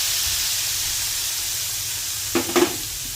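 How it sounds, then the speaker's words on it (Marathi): Hot tadka of red chillies and asafoetida poured into a pot of traditional ghevda kadhi, giving a short burst of sizzling and spitting near the end of a quiet hiss. "आता आपण हा तडका बनवला आहे. आता यामध्ये मस्त ओतून घ्यायचा आहे."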